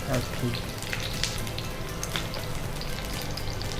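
Cabbage veg rolls frying in a pan, a steady soft crackle and sizzle running throughout at close range, with a few brighter pops near the start.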